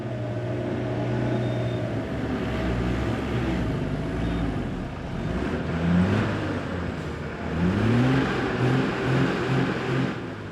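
A worn-tired truck struggling through slippery mud on a Himalayan mountain highway, its engine droning and revving repeatedly in rising surges as the wheels spin for grip.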